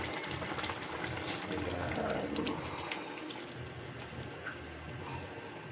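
Coconut cream pours in a steady liquid stream into a crab dish, with a continuous close splashing rush.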